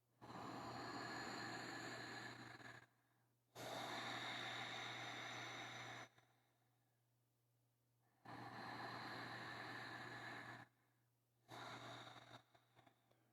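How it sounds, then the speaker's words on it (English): Slow, deep breaths taken during a gentle stretching session, four long broadband whooshes of inhaling and exhaling separated by short pauses, close and steady over a faint low hum, with no talking. "2 more big breaths."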